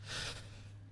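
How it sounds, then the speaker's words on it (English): A character in the game Stationeers breathes heavily, close and alone. One strained, gasping breath swells and then trails off, over a steady low hum. "That should stop the horrible breathing sounds."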